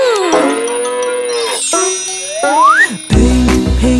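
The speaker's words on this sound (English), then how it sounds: "I'm a cow. Moo!" A cow moos in a bright children's phonics song, a drawn-out lowing call that slides up in pitch over cheerful backing music, loud and close, followed by a jingling cowbell-like sound.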